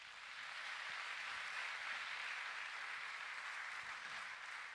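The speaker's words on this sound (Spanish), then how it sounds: "Denle un aplauso fuerte al Señor." A church congregation applauds in a continuous, even wash of clapping that sounds somewhat distant and soft, holding steady without pauses.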